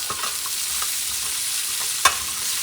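Fresh green beans sizzle as they are stirred and fried with scraps in a paella pan, a steady close hiss broken by soft scrapes and one sharp clink of the utensil.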